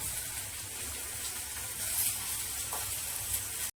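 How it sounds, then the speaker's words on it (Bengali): Fish masala fries in a wok for a ridge gourd, potato and fish curry, giving a quiet, even sizzle and hiss throughout, with no voices. "এটা মাছের মশলা ভাজা হচ্ছে।"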